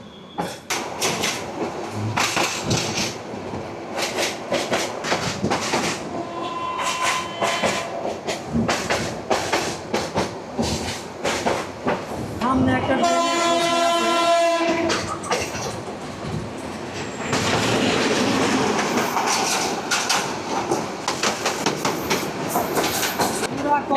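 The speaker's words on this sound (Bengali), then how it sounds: "ট্রেনের গতি হচ্ছে খুব মিডল স্পিডে যাইতেছে" Mahanagar Provati passenger train running at moderate speed from Dhaka to Chattogram, its wheels clattering in a rhythmic clickety-clack with a sustained tonal whine midway, as voices talk intermittently in the background.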